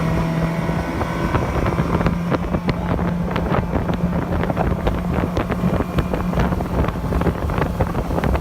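Motorboat running steadily over open water with a constant engine drone and wind buffeting the microphone, close and loud throughout with no talking.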